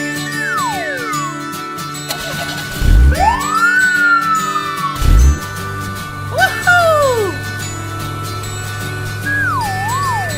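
A police car siren in a children's cartoon, heard as rising and falling electronic wails over bright jingling music, with a few soft low thumps between the sweeps.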